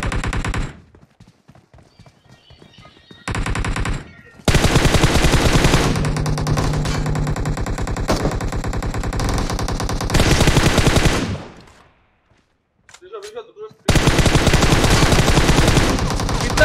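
Loud bursts of rapid automatic gunfire in a multiplayer shooting video game, long sustained volleys broken by short quiet gaps, close and harsh, with no speech over them.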